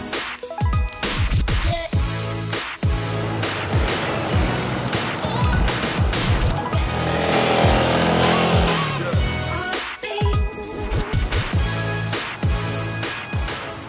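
A Yamaha Tricity 300 three-wheel scooter weaves between bollards, its engine revving up and down in repeated surges with brief tyre squeal, close and loud throughout, with no talking.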